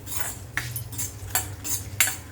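Cloves, peppercorns and coriander seeds dry-roast in a pan and are stirred with a utensil. Close, soft scraping strokes come about every half second over a faint low hum.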